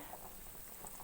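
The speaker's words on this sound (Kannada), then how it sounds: "ಫ್ರೆಂಡ್ಸ್ ನೋಡಿ ಇವಾಗ ನೀರು ಕುದೀತಾ ಇದೆ" Water coming to a boil in a covered pot for methi chicken biryani gives off soft, faint bubbling, a continuous low gurgle heard alone.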